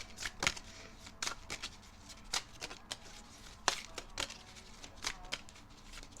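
Tarot cards are shuffled by hand in quick, irregular crisp riffles and taps, close and fairly soft, with no talking.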